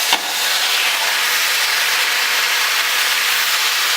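Three thinly sliced, still slightly wet chicken breasts hit a hot pan, starting with a sharp onset and then settling into a steady, bright, loud sizzle that holds evenly throughout.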